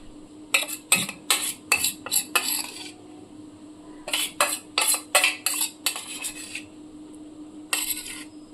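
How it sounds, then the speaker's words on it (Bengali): Poppy seed paste and green chilli paste being mixed in a bowl with a spoon, a run of rhythmic scraping strokes in two bursts separated by a pause, close and clear, with no voices. "সম্পূর্ণ পোস্ত বাটাটা দিয়ে দিলাম দিয়ে ভালো করে মিশিয়ে নেব"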